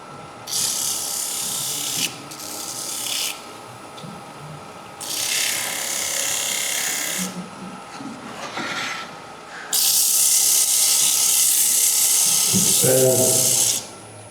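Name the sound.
sanding wood on a lathe with a jam chuck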